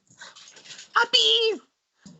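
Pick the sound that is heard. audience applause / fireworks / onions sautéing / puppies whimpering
puppies whimpering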